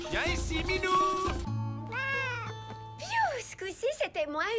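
A cartoon cat that has escaped lets out several drawn-out, wavering meows with rising and falling pitch, loud and close, alternating with talk and music.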